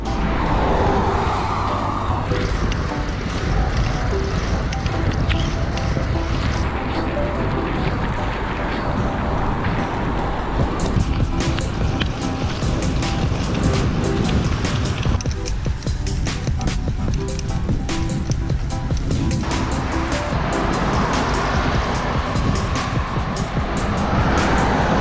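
Road traffic rushes past a cyclist riding on the sidewalk, a continuous loud roar of passing cars with wind noise and occasional swells.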